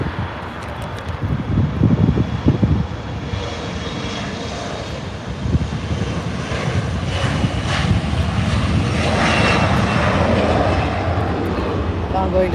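An Embraer E175 jet airliner takes off at LAX, its engines producing a loud, steady broadband roar that swells slightly and holds for the whole stretch.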